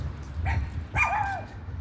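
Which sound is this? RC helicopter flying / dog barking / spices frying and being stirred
dog barking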